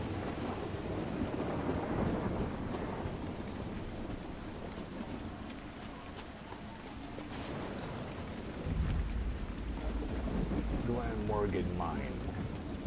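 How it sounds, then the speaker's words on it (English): Thunder from a lightning strike in the video game Dragon Age: Inquisition, a loud low rumble and crack over steady rain, with someone talking through much of it. "watch the lightning hit the ground again"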